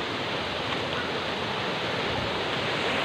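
Waterfall at a summer swimming spot, a constant dense roar of rushing water, loud and close with no breaks.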